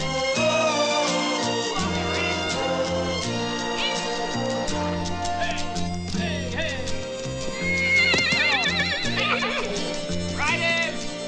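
A horse whinnies loudly and repeatedly in a Western film scene, its high wavering neighs rising over a dense musical score, with hooves and shouting riders around it.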